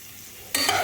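Beans frying in a pan with salt just added get a quick stir, a short burst of sizzle and spatula scrape after a quiet moment.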